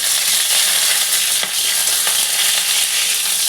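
Onion quarters fry in hot oil for an egg curry, giving a loud, continuous close-up sizzle with a brief dip and a couple of stirring knocks.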